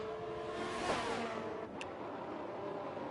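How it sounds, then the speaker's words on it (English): A pace car in an F1 racing game at Spa sweeps past with a rising then falling engine whine, fairly faint, followed by a brief high whoosh. "As you hear that pace car go by"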